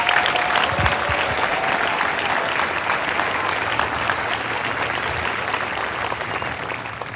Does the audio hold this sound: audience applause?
yes